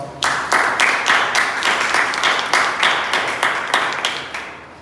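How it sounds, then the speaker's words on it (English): A club meeting audience at a Toastmasters session breaks into a round of applause, dense clapping that pulses in waves for several seconds before tapering off. "let's give a big round of applause"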